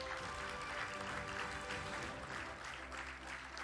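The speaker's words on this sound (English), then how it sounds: "We need a golden round of applause." At a training centre convocation, the audience claps in a dense, moderately distant round of applause for a gold medal winner that eases off slightly near the end.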